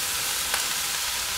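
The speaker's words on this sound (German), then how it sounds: "die lassen wir nur 2-3 Minuten brutzeln" Chopped onions and leek fry in a pan, giving a dense, continuous hiss and crackle up close, with a brief stirring scrape partway through.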